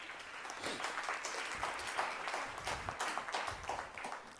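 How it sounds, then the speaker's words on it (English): A small audience of parents claps at a motivational talk, a soft, continuous patter of hands heard at a distance and fairly faint, without voices over it. "Only parents clapping."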